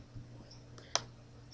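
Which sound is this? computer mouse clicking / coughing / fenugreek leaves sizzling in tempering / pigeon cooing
computer mouse clicking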